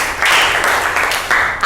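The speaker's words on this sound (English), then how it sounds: "Right answer, please clap for Rashi." Brief burst of clapping from a school class, a couple of short loud surges of hands clapping close by.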